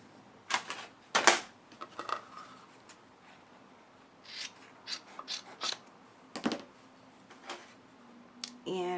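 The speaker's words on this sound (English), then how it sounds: "So let me just cut off a piece of the felt here." Scissors snip through a piece of felt for craft mittens: a handful of short, crisp cuts come in irregular bursts, close and fairly quiet, with small rustles between them and no talking.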